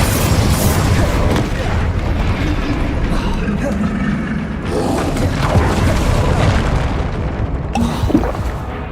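Confringo fire spell blasts in the Hogwarts Legacy video game, a booming, continuous roar of explosions and bursts filling the scene, with a voice shouting spell names over the din.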